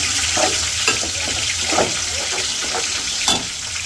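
Spices sizzling in a hot pan as they are fried down for a village-style beef and bottle gourd dish, a steady frying hiss broken by scraping stir strokes, close and continuous with no voices.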